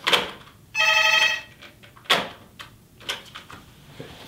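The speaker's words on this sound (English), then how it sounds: "Phone call." A telephone bell rings in one bright burst of about half a second, followed by scattered knocks and handling clicks, close by and with no one speaking.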